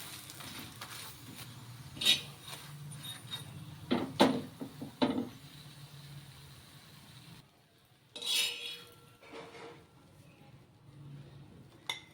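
Parathas fry in oil in a home kitchen, with a soft steady sizzle beneath sporadic clinks and scrapes of a utensil against the pan and several louder knocks, no talking.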